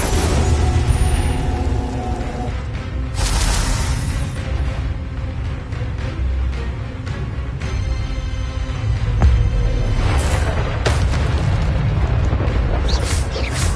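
Incendio fire spells burst again and again in Hogwarts Legacy, giving loud booming whooshes over a constant roar of combat and music.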